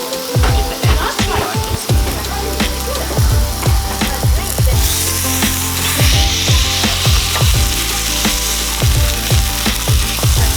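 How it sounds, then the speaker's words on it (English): A large burger sizzles loudly on a hot griddle under a greased burger smasher, a steady crackling fry with repeated scraping and pressing knocks close by. "I'm gonna have to grease the burger smasher."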